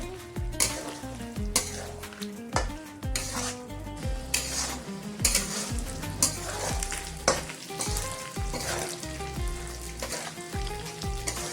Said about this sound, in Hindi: तो फ्रेंड्स मैं और 10 मिनट फ्राई कर लिया